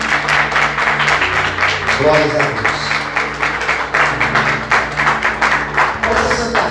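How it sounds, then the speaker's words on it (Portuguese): A church congregation claps throughout while a voice speaks over the applause, with an organ or keyboard holding chords underneath and some rhythmic tapping mixed in. "Você pode aplaudir Jesus bem forte?"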